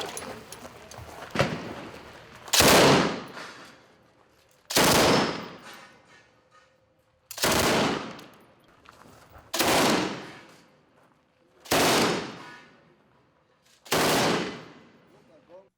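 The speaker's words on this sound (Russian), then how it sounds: "Сейчас пулемет, попробуем." Machine gun fired during a weapons range session in Chechnya, six loud separate bursts spaced about two seconds apart, each sharp onset followed by a decaying echo, with quiet gaps between.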